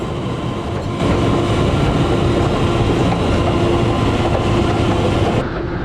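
A train on a temporary 2-foot gauge railway giving visitor rides, rolling steadily and fairly loud throughout with a continuous rumble and clatter that swells after the first second, no voices over it.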